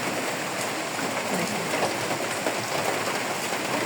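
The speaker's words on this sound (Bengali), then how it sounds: "আজকে দেখেন একদম অঝড় ধারায় বৃষ্টি" Heavy rain pours down in a dense, continuous hiss at an even, loud level throughout, with no talking.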